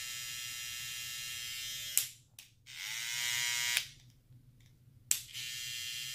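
Babyliss FX Boost trimmer buzzing close up, its steady whine cut off and restarted several times with sharp clicks of the switch between short bursts, no voices present.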